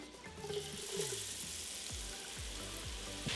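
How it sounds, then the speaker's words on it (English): Pre-cooked French fries hiss and crackle as they re-crisp in hot oil for cheese fries, a steady bubbling sizzle with no talk. "I'm just going to fry them up just for a few minutes just to re-crisp them"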